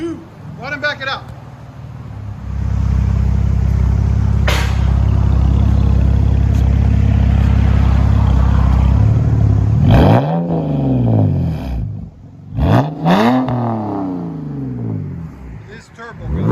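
A 2010 BMW 128i exhaust fitted with a Cherry Bomb glass pack and a resonated tip, roaring loudly in a sustained rev and then dropping into sharp blips and sweeping revs, close up, with people talking between the revs.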